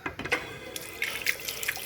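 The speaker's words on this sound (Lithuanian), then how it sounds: "čiaupas vienas, tai turbūt šaltas vanduo tik tai" A single cold-water tap runs into a small guest-room sink, a steady close splash of flowing water with a few brighter drip-like spatters, no voices over it.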